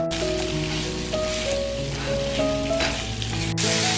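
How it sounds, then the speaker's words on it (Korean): Potatoes stir-fry in generous oil in a pan over medium-low heat, a steady close hiss and crackle with soft music underneath and a brief gap near the end. "중약불에서 감자를 볶아주세요"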